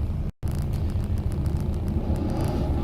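Low, steady engine rumble from a Mazda at a quarter-mile drag race for Minis, holding at a continuous idle-like drone with a brief dropout near the start.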